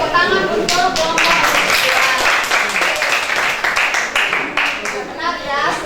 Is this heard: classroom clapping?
yes